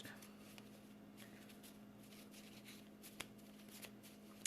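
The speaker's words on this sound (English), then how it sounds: "I will say while I'm shuffling this deck" Soft, close shuffling of a tarot deck: faint riffles and light slaps over a quiet room hum, with no speech.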